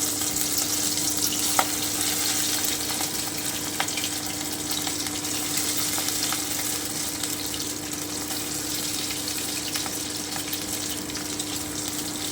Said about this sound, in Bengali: তো এইভাবে আমি মাছগুলোকে ভেজে নিচ্ছি